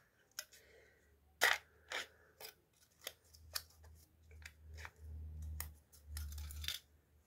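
An Yves Rocher shea body care product is opened with a series of sharp plastic clicks, snaps and rustles at close range, irregularly spaced with no talking.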